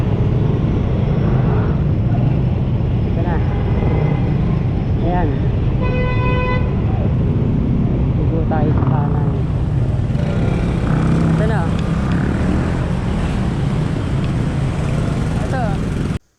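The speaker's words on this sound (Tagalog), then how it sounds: "traffic" Busy Manila street traffic near a flood-control canal, with engines rumbling constantly and several car horns tooting in short bursts throughout, loud and close, while someone speaks over it.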